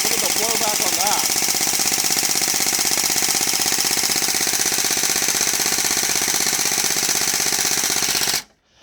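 A Jin Jian M249 light machine gun gel blaster fires full auto in one long, loud, rapid mechanical rattle of blowback that runs almost unbroken for about eight seconds before cutting off abruptly, close up, with no talk.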